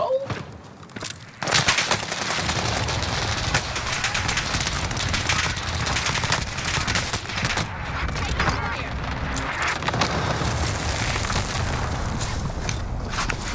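Gunfire in a video game during a tense firefight, dense continuous bursts and booming shots filling the mix, loud and close throughout.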